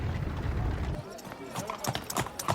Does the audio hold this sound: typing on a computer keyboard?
no